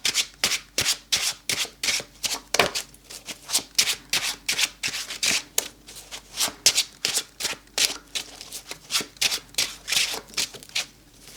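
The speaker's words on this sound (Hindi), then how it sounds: "कार्ड्स को शफल करते हैं।" Tarot cards being shuffled by hand, a long run of crisp riffling bursts in a steady, fairly quick rhythm, close and clear with no talking.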